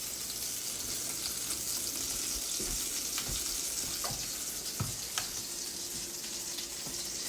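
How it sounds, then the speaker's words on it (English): Butter melting in a hot skillet while making pumpkin spice French toast, giving a steady, close frying sizzle with a few soft clinks and taps on top. "Now I'll put my other tablespoon of butter in there. Let it melt."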